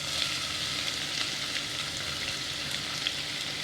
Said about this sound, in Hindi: आधी मिनट तक मसालों को फ्राई करने के बाद हम इसमें 2 प्याज ऐड कर देंगे